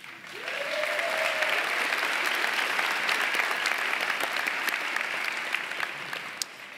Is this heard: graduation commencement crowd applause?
yes